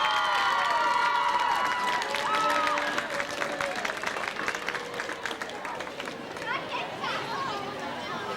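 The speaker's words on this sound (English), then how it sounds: "Let's give all of our seniors one big last round of applause." A stadium crowd at a high school football game applauds and cheers for the seniors. The clapping is dense and loud at first, then thins out, with chatter and a voice over the speakers underneath.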